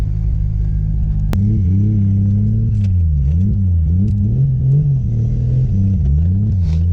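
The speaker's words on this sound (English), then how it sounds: "This is our first lap on track with an untuned car" Untuned drift car on its first lap at Harris Hill track in Austin, Texas, heard from inside as a loud, steady low engine drone with rising and falling revs throughout, opening with a sharp click.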